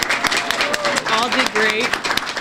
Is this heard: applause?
yes